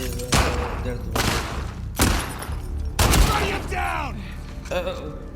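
Gunshots ring out in The Last of Us Part 2, several heavy booming shots about a second apart, loud and reverberant, under continuous game sound with a voice talking over the action.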